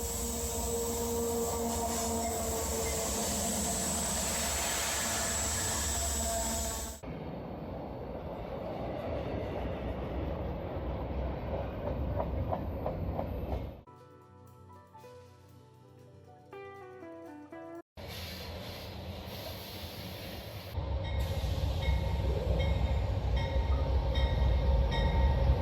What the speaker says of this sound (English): I filmed a few freight trains for the fellow train nuts out there